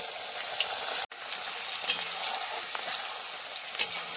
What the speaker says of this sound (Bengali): এবার আমি ভেজে নেব কিছুটা ছোলার ডাল।